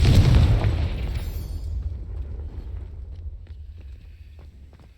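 A Confringo spell explosion in Hogwarts Legacy, a loud booming burst right at the start that decays over several seconds into a low rumble with faint scattered footsteps.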